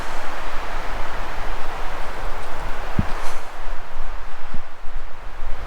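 Strong spring wind blows outdoors in snowy Montana, a steady broad rushing roar buffeting the microphone, with a couple of brief low thumps.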